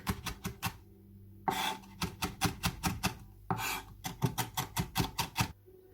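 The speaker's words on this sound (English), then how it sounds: "You're going to want to chop this fine and into the garlic" A knife chops chili finely on a board beside garlic, in quick rhythmic bursts of sharp close-up taps separated by brief pauses, with no one talking.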